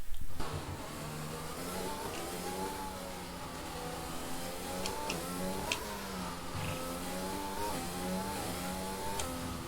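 Racing car engine in F1 2020, a Formula 1 game, pulling out of the garage: a steady mid-pitched engine drone with rising and falling revs over nearly ten seconds, loud and continuous with no talking.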